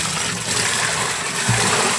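Steady water running through a pipe or drain during a clog check, a continuous rushing wash with a brief louder surge near the end.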